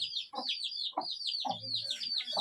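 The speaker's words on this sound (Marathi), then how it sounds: "हे कोंबड्यांसाठीचं झाप" Hens cluck and chirp continuously close by in a coop shelter at an old mud house, a busy overlapping chatter of short calls with some low scuffling noise beneath.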